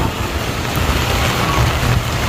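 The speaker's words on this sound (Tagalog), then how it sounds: "Tapos ulan pa." Heavy rain pours over a flooded Quiapo street in Manila during Super Typhoon Carina, a dense, steady wash of noise with wind buffeting the microphone.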